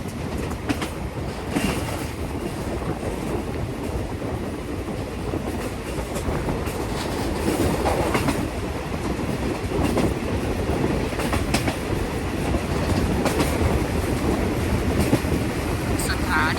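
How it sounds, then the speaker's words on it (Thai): A Hitachi locomotive train rumbles steadily close by, wheels clattering rhythmically on the rails, with occasional squeals as it slows into Bang Pa-in railway station. "กำลังจะเข้าจอสถานีรถไฟบางปะอินแล้วนะครับ"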